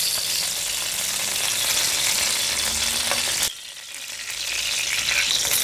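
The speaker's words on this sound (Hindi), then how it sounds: "इस कढ़ाई के अंदर मैं पहले घी शामिल करूंगा, बिस्मिल्लाह, तकरीबन 50 ग्राम।" About 50 grams of desi ghee heats in a kadhai, giving a loud, steady sizzle that runs throughout and dips briefly midway.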